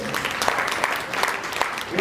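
Audience applause rings out at a swearing-in ceremony in Jodhpur, a dense patter of many hands clapping throughout, with an announcer's voice running over it.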